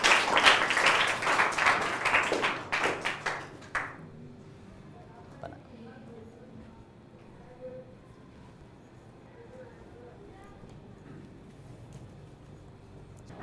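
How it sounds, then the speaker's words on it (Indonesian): Classroom audience clapping for two students, a dense burst of claps for about four seconds that quickly fades into quiet room noise with faint voices. "Kati aplaus untuk Serin dan Hanifia."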